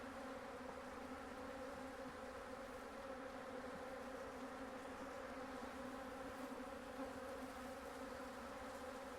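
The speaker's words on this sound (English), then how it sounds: "Hear how these bees are acting though? They're getting riled up." Agitated honey bees buzz around open hives in a continuous, dense, steady drone with no gaps, close and moderately loud.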